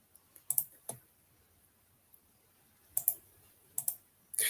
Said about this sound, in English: let me rather type the word